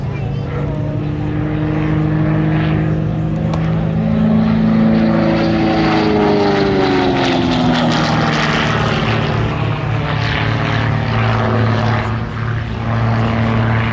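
A Gamebird aerobatic propeller plane with a 315-horsepower engine roars loudly overhead at an airshow, its drone holding strong for the whole stretch while the pitch slowly bends and sweeps as it rolls.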